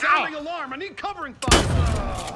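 Gunfire in the Predator Hunting Grounds video game: a loud, dense burst of shots that kicks in after a voice and runs on for about a second, close and harsh.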